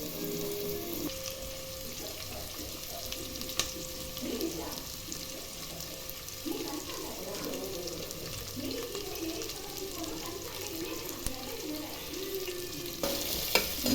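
Onion and curry leaves frying in ghee for a chicken ghee roast, a steady sizzle with stirring scrapes and clatter in the middle stretch, moderately quiet.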